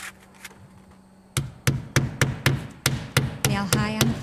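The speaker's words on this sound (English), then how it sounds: "Fasten the drip cap with roofing nails." Hammer blows driving roofing nails through a door drip cap flashing above an exterior door frame, about ten sharp, evenly paced knocks close by, starting after a quiet stretch and ending in a short ringing strike.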